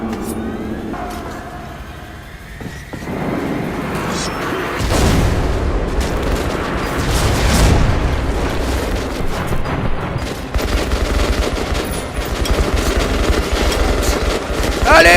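Grenade blasts and sustained gunfire in the video game Metro Last Light Redux, a dense, loud barrage of rapid shots and deep booms rolling continuously, with a voice speaking over the chaos.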